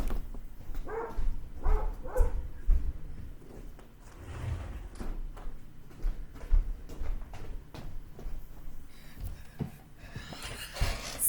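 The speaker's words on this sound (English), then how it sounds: "Do you guys hear Molly barking?" A dog at home gives several short barks, bunched early and scattered later, at moderate distance amid rustles and thumps in a quiet room.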